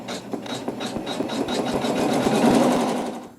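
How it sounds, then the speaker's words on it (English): A sewing machine tack-stitches fabric to hold a large-scale print quilt block in place, a steady rapid mechanical chatter with rhythmic needle clicks that builds slightly louder toward the end, heard alone. "I just do a little stitching just to kind of hold the fabric in place"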